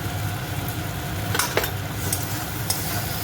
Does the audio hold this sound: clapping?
no